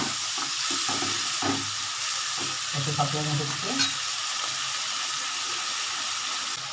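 Spices sizzle in a pan for a Bengali pabda fish curry, a steady frying hiss broken by several scraping stirs of the spatula, close and moderately loud, with no voices.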